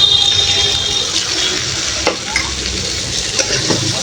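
Cow brain frying in spiced masala in a pan, a loud, continuous close sizzle with occasional scraping stirs of a spatula, no voices.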